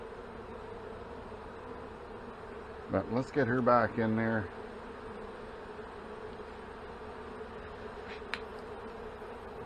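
Honey bees drone at an opened hive during an inspection, a steady low hum running throughout, while a person talks briefly in the middle.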